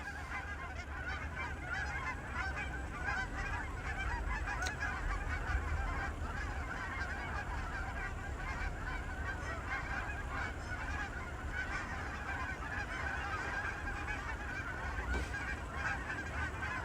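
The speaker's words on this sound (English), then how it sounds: "And I believe these are all Canadian geese." Canada geese flying overhead on a snowy day honk continuously, a dense overlapping chorus of calls carrying over a steady background hiss.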